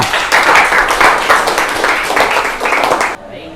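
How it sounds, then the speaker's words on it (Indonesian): Classroom audience clapping for a student group after their presentation, a short burst of brisk applause with faint voices beneath, cutting off abruptly near the end. "Tepuk tangan untuk kelompok 3."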